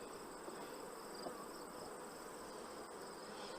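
Newly emerged honey bees from a grafted brood round fill the air with a dense, continuous buzz, faint and steady with no voices.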